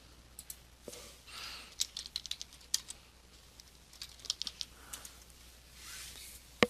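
Fingers type on a computer keyboard in short, irregular bursts of light, close key clicks, with brief pauses between runs and a soft hum underneath.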